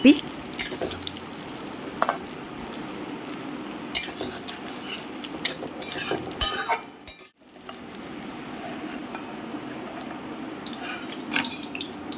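Jackfruit pakoras cook in hot oil with an uneven sizzle, mixed with clinks of utensils and bursts of scraping as the fritters are lifted out, and a short drop to quiet midway through.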